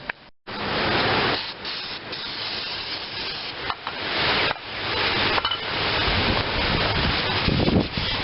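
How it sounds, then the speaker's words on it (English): Gusty wind buffets the microphone outdoors during rear drum brake and wheel bearing work on a Geo Metro, a loud, continuous roar with brief dropouts and surges, no talking. "Getting debris blowing up here from the wind."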